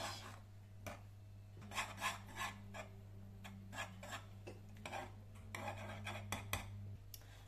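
Butter melting with a pinch of salt is stirred in a pot, heard as soft, close rasping and scraping strokes of a utensil against the pot, irregular and fairly quiet over a low steady hum, with no talking.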